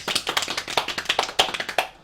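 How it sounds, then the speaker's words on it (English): A crowd claps steadily, dense overlapping hand claps in a quick rhythm, fairly loud and close, with no talking. "Everybody, clap your hands!"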